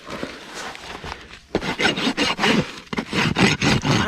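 A slightly dull rasp files a mustang's hoof during trimming, putting a bevel on a foundered foot: a run of rhythmic scraping strokes, close and fairly loud, with a short pause between bursts.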